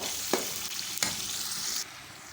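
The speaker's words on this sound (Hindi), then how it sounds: "इसको अच्छी तरह मिक्स कर लेंगे और 5 मिनट के लिए इसको पकाएंगे।" Mashed brinjal bharta sizzles steadily in a pan while a spoon scrapes through it twice, close and clear, before the frying hiss drops away near the end.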